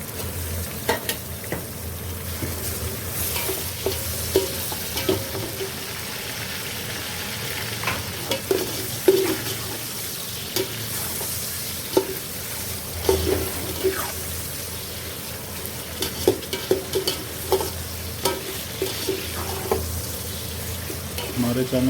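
Chicken leg pieces fry with lightly browned onions in a steady sizzle, while repeated stirring scrapes and knocks come through clearly and no voice is heard.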